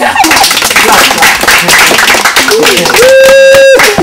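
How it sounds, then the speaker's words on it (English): A classroom of pupils claps together in a dense, loud patter, with voices talking over it and a brief high whistle-like tone near the end. "Clap for yourselves."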